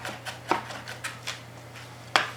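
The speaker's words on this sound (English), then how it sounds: "So we'll keep chopping that garlic" A knife chops garlic cloves on a board, with several soft, quick taps close up and one sharper knock near the end, all faint over a low steady hum.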